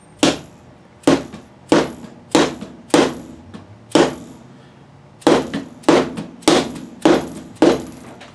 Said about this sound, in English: So we're going to send this fret home.